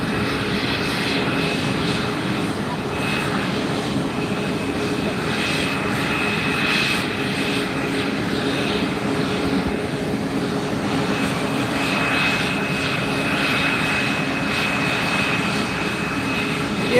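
JetBlue jet airliner engines at Fort Lauderdale airport roar steadily and loudly throughout, a continuous broadband rumble with a whining tone, no talking.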